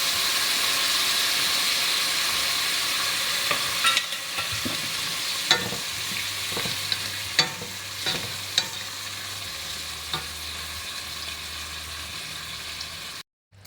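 Second-press coconut milk poured into a pan of pork binagoongan with sautéed shrimp paste, sizzling and hissing steadily, with a few sharp stirring clinks and scrapes.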